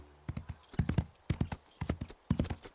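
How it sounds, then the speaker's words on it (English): Cartoon horse hooves clip-clop in a quick, uneven rhythm of sharp, close knocks, with a soft whinny-like sound among them, from an animated horse series. "It's just a horse."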